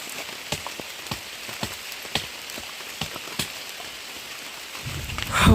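Steady rain falls in a dense forest where a jackfruit is being taken down from a tree, with scattered louder drop impacts over the constant hiss and a brief thud near the end; no one speaks.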